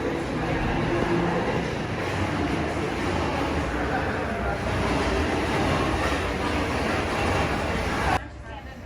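Amtrak Crescent northbound passenger train arriving at a station, a loud continuous rumble of wheels on rail with rushing noise, steady and close for about eight seconds before cutting off abruptly.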